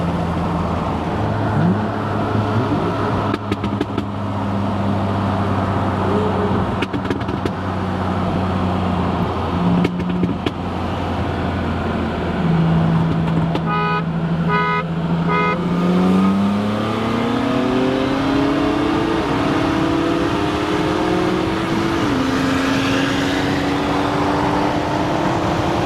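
A BMW M3 with a manual transmission running on E85 fuel accelerates hard from a 60 mph roll, engine pitch climbing steadily with shifts audible as brief dips, loud and continuous from inside the car.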